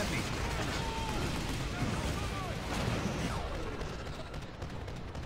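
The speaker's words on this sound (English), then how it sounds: "I'm shooting my own people" Continuous gunfire in the video game Vanquish, a dense, loud wash of shots and blasts that runs without a break for the whole stretch.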